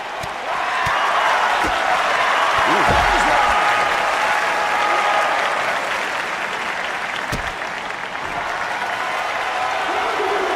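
Virtual arena crowd in the wrestling game WWE 2K25 during a Scott Steiner versus Sheena Ryder match, a loud steady roar of cheering and applause filling the whole stretch, with a brief commentator voice rising near the start.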